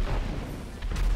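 Continuous low rumbling blasts of RPG rocket explosions during a rocket-launcher-only deathmatch in GTA V, dense and loud, with a fresh burst near the end.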